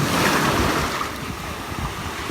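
Steady, broadband rush of sea surf washing onto a sandy beach at Rassiika, continuous and fairly loud, with wind buffeting the microphone and no voices.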